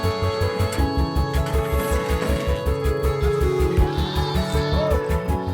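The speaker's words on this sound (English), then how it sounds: "Most of the healthier goats and sheep go directly into their pens, eager to huddle together and warm up for the night." Goats and sheep bleat on a winter evening in the high-altitude Changthang plateau of Ladakh as they go into their pens, with overlapping cries over a steady rhythmic pulsing background.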